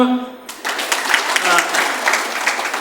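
An audience at a weekly spiritual discourse and charity event at an ashram bursts into applause after a voice stops, a steady crowd clapping that is fairly close and sustained.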